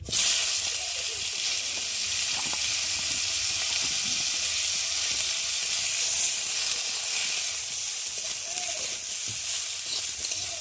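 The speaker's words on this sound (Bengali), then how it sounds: "আর কড়াতে তেল রয়েছে, আর এখন ওই তেলের মধ্যে আমি কপিগুলোকে ভেজে নেব।" Cauliflower pieces fry in hot oil in a kadai for fish curry, giving a steady, loud, continuous sizzle and crackle throughout with no voices.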